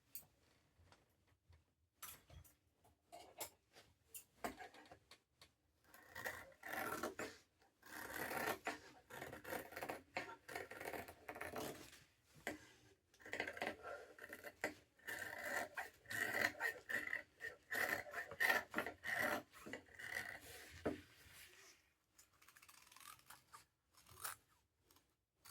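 Scissors trim excess fabric from a sewing pattern piece in a quiet room, giving a series of faint, close, irregular snips and rustles.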